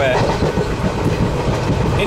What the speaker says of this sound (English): Indian trains are alright.